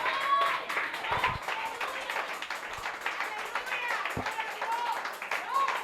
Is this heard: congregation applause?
yes